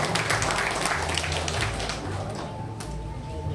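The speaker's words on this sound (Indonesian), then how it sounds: "Tepuk tangan untuk Kelurahan Sumber Taman." Audience applause for a neighbourhood village group at a morning community gathering: dense, steady clapping from a crowd, moderately distant, fading slightly toward the end.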